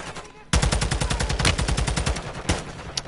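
Rapid automatic gunfire erupts in a loud, sustained burst of close shots in Call of Duty, followed by a single later shot.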